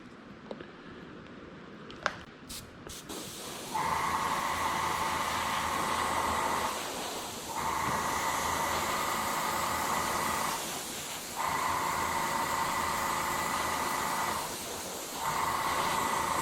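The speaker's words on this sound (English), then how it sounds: "let me get my airbrush turned on" An airbrush sprays flesh-colored paint onto the nose of a whitetail deer taxidermy mount, giving four long, steady hissing bursts separated by short pauses, close by, after a few soft handling clicks.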